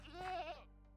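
A Minecraft goat gives a single short, wavering bleat, clear and close, fading out within a second.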